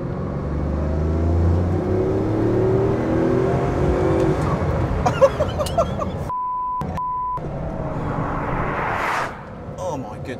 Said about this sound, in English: The way this car accelerates is absolutely mind-blowing.